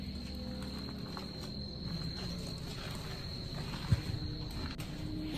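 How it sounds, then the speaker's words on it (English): Crickets chirp at night in a steady, continuous high trill, with a faint low background hum and one small thump partway through. "No, I don't want crickets."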